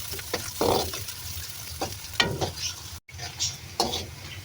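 Two black cardamom pods hit hot oil in a pot while kaly channa pulao is being cooked, giving soft crackling sizzles and a few stirring scrapes, close and fairly quiet.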